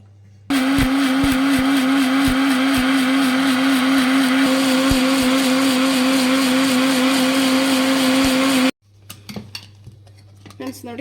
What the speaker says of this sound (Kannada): ಒಂದು ಸ್ವಲ್ಪ ನೀರು ಹಾಕ್ಕೊಂಡು ಇದನ್ನು ಗ್ರೈಂಡ್ ಮಾಡ್ಕೊಂಬನ್ನಿ